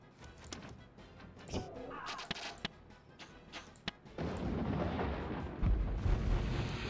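Artillery fire in Warhammer: Dark Omen, a run of sharp thudding blasts in uneven rhythm followed by a louder rolling roar of impacts and rumble over the last few seconds.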